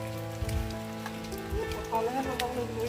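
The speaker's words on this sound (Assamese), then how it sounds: "জিপ জিপকৈ অলপ অলপ বৰষুণ দি আছে" Light rain patters steadily on the ground outdoors while a cow is being washed, a soft continuous hiss of drops with a low hum running beneath it.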